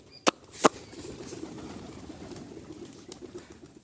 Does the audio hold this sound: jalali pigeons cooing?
yes